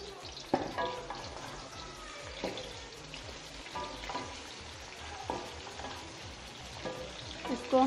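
Vegetables, potato and brinjal, dropped into hot oil in a kadai, a continuous close frying crackle punctuated by repeated sharp clinks and scrapes of stirring, with no one speaking.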